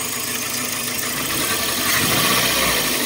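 A car engine with a faulty ignition coil idles and misfires, giving a steady close rumble with vibration and an uneven, slightly knocking pulse, with no talk over it.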